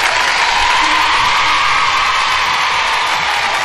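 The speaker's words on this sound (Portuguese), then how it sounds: "Aplausos pra ele." Audience applause at a Brazilian TV game show, a dense, loud wash of clapping and crowd noise filling the whole stretch at steady intensity.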